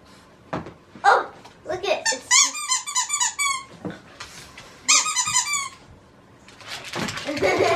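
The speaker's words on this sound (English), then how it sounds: "squeak it again so he bites the right part." A squeaker dog toy squeezed for a dog, giving bursts of bright, rapid, pitched squeaks in two main runs, loud and close, with brief voices and rustling between them.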